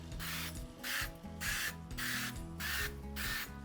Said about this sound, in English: what I like to do is actually spray a muffin tin with some kind of oil. I have avocado oil here.